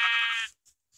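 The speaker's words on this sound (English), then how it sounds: "I'm killing the sheep." Sheep bleating in a Minecraft-style multiplayer video game as the animal is killed, one loud harmonic bleat followed by two faint short hit sounds.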